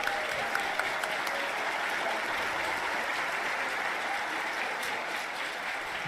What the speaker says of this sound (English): give yourselves a round of applause for making this feel real special for us down here